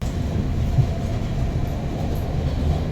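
A Stockholm train cabin, heard from inside while riding, gives a steady, quiet low rumble with no distinct clatter or voices.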